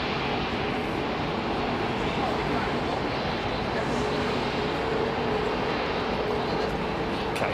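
Rolls-Royce jet engines of an airliner at Heathrow produce a continuous loud, broadband roar that stays steady throughout, with a voice faintly present underneath.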